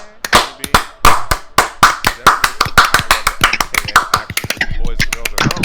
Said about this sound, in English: Everybody, give a slow clap to Ryan himself.